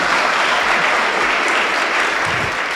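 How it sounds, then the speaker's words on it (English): Steady, loud audience applause filling a hall after a talk on breast cancer awareness, continuous clapping with no pauses and no voices over it. "big round of applause"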